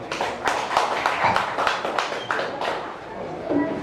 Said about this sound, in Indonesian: Tepuk tangan buat Ustaz Deden.